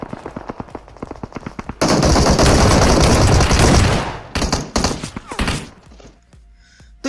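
Rapid, loud bursts of S12K semi-automatic shotgun fire in the PUBG Mobile battle royale game, a dense volley of close booming shots lasting about two seconds, then scattered single blasts and echoes.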